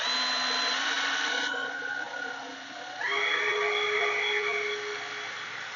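A power drill whines steadily while drilling a pilot hole for a floodlight installation on a house, pausing briefly before spinning up again at a higher pitch, close by and fairly loud.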